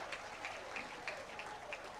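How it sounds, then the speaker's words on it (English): An audience at a faculty introduction event claps in steady applause, a continuous moderate patter of many hands with no talk over it. "Please put your hand together for their presence over here."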